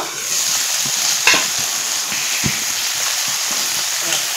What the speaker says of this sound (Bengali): একটু নাড়াচাড়া করে এভাবে একটু কষিয়ে নেব।